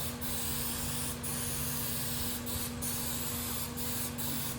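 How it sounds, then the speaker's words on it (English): Short bursts of hissing spray of liquid onto car vinyl recur at irregular intervals over a constant low hum, close by and with no talking. "you're gonna want to spray both sides. You want to spray the vinyl as well."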